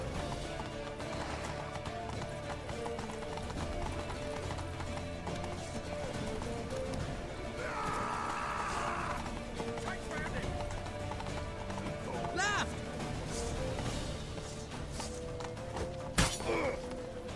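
Horse hooves clip-clop and gallop in The Witcher 3, a steady rhythmic beat under constant speech and in-game music, with a brief sharp crash near the end.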